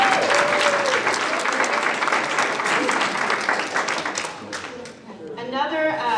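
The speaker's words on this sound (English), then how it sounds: "he deserves a huge applause" Loud audience applause at a senior center's tenth-anniversary celebration, dense clapping from a crowd that runs strong for several seconds, thins briefly near the end, then swells again.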